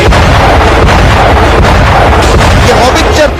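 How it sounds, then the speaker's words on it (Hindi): Indian howitzer artillery guns fire shells at the enemy, giving loud, dense booms and blasts that crowd together in a continuous roar, with no clear gaps between shots. "एक बार फिर देखिए कैसे दुश्मन पर हॉविट्जर गोले दागती है।"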